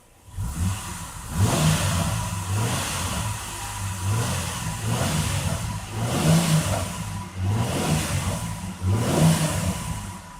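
A car engine revs up and down in repeated surges as the vehicle accelerates during a diagnostic scanner test, a steady mid-pitched drone rising and falling about every two seconds.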